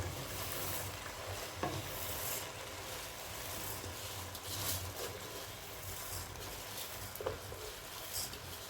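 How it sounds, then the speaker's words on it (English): Raw rice tipped into a cooking pot, giving a steady rustling, sizzling patter with a few soft clinks and scrapes as it is stirred, moderately close and with no talking. "So today, I will just go in with my rice first."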